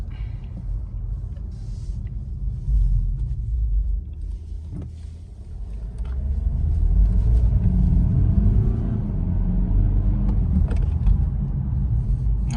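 A BMW 120d diesel car with 190 hp accelerates from 0 to 60, a deep steady cabin rumble that swells and grows louder partway through.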